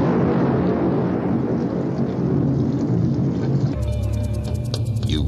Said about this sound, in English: Suddenly, a huge crash of thunder